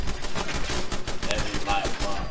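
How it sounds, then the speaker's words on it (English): Rapid gunfire crackles in dense bursts during a Fallout 4 firefight, a continuous barrage of shots filling the scene while a voice talks over it. "There's so much gunfire right now."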